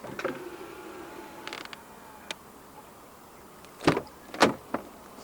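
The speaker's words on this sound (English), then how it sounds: "And to unlock the car, just press any of the 4 buttons again." Keyless unlocking of a 2023 Land Rover Defender 110 P400 from a door handle button, giving a faint click, then a pair of louder mechanical clunks from the lock actuators and a final tick, close and quiet, with no voices.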